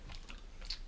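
Chewing and biting on a pet-food-flavoured Bean Boozled jelly bean, with a few soft, close crunching bites spread over a brief moment and no talking.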